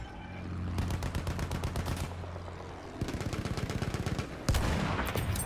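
Rapid machine-gun bursts in Battlefield 1 video game, steady rattling volleys that pause and resume, with a heavier blast near the end, close and loud with a low rumble underneath.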